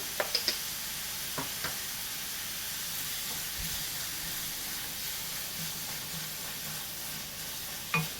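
Onions sautéing with salt in a pan for bitter gourd masala fry, a steady close sizzle and hiss with a few clicks of a spoon stirring.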